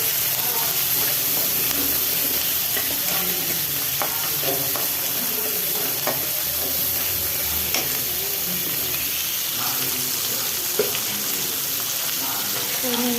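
Ginger and garlic sauté in a pan with a loud, steady sizzle and hiss, broken by frequent scraping stirs and sputters, close up, with a few faint voices in the background.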